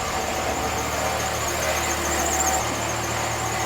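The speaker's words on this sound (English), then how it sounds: "The belt's squeaking." A Toyota Corolla engine idles with a drive belt squealing, a constant whine over a steady motor drone and rattle, close and continuous, while someone talks over it.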